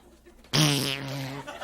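A voice imitates a turtle fart: one sudden, loud, steady buzzing blat held for about a second, then fading into soft noise.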